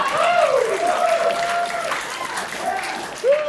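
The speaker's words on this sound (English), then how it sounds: "Clap it up." Comedy club audience applauding at a stand-up show, steady dense clapping with cheering voices mixed in throughout.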